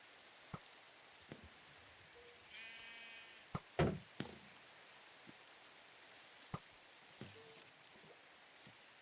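Short sheep bleats from the video game Village Maker ring out among sparse clicks and thuds, with a louder burst near the middle, over a quiet ambient background.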